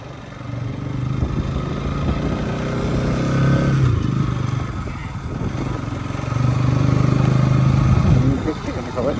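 Motorcycle engine while riding through Darjeeling, a steady mid-pitched drone that swells twice, mixed with wind rumble and road noise.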